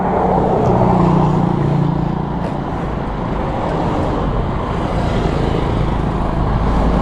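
Roadside traffic beside a shop, a loud continuous rumble of passing cars and heavier vehicles close by, with no clear voices.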